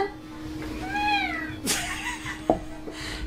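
A cat gives a clear rising-and-falling meow up close, followed by a few brief rustles and knocks in a quiet room.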